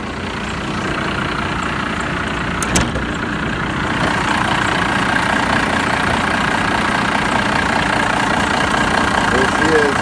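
An old 12-valve Cummins diesel in a five-speed 4x4 truck idles steadily up close with a loud, even clatter, and a brief sharp tap rings out partway through.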